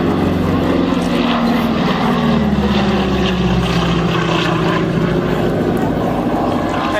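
A propeller-driven warbird aircraft at an airshow drones steadily and loudly with a continuous engine roar and shifting pitch throughout.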